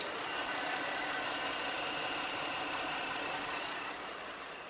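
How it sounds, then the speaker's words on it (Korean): A used Hyundai Genesis BH 330 engine idling with the hood open: a steady, smooth, quiet hum that holds evenly and fades slightly at the end, with no voices. "엔진 소음 먼저 들려드리면은"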